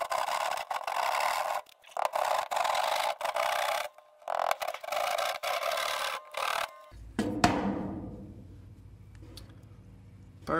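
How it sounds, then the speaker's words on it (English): Hand saw cutting through a drywall wall for a cable pass-through box, loud rasping strokes in a quick uneven rhythm with brief pauses, ending in a ringing clatter that fades out. "at this point I could cut a hole in the wall to fit the box"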